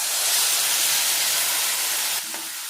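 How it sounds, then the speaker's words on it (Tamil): Tamarind water poured into a pan of frying dried fish masala makes a loud, broad sizzling hiss that holds steady for about two seconds and then eases slightly. "இப்போ நாம் அந்த புளி கரைச்சலுக்கு இதில் ஊற்றிக்கலாம் பாருங்கள் புளி கரைச்சலை இதில் ஊற்றிக்கலாம்"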